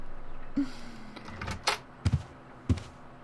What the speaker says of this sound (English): No, I just heard the front door.